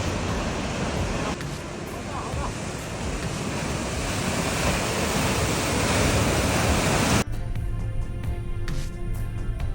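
Tidal waves from a river surging into small canals, a loud, continuous rushing wash of churning water that holds steady before abruptly dropping away near the end.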